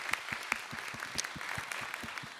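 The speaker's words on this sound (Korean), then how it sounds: "다시 한번 박수 주시겠어요?" Sparse applause from a church audience, individual claps spaced at an even rhythm, moderately close and filling the room alone without talk.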